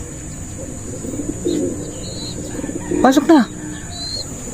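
Homing pigeons coo softly near a loft, low murmuring calls over steady background hiss, while someone speaks briefly and a sharper bird call rises near the end.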